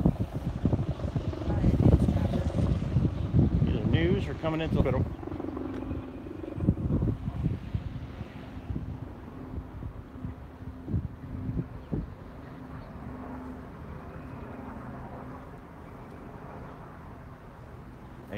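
A helicopter flies overhead as a low, steady rumble through wind noise on the microphone. People talk over it nearby.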